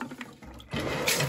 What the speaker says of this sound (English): I'm gonna dunk it in and pump it out.